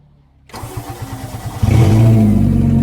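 First engine of a twin-engine, twin-driveline all-wheel-drive Hyundai Getz cranking with rhythmic starter pulses after silence, then catching and settling into a loud, close idle.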